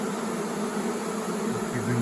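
A swarm of honey bees buzzes steadily and closely, a dense continuous drone with no voices.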